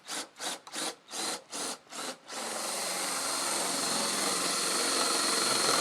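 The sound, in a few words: drilling a hole in a wooden trebuchet pole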